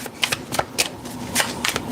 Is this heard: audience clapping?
no